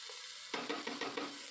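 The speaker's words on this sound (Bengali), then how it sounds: "এবার আমি এর মধ্যে দিয়ে দিচ্ছি ধুয়ে রাখা আতপ চাল" Washed aatap rice tipped into a pan of sautéing vegetables for biscuit khichuri, giving a quiet sizzle and then a run of five or six soft, rhythmic stirring scrapes with no one talking.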